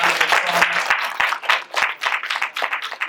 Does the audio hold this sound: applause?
yes